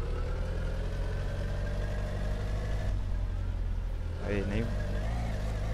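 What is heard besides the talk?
car engine driving in My Summer Car video game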